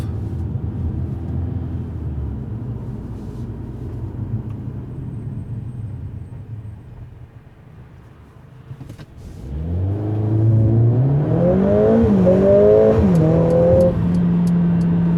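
A 2020 Mercedes-AMG CLA 45 S 4MATIC+ engine idles low in comfort mode, dips quietly, then accelerates smoothly with rising whine through gear changes, close and steady, no talking.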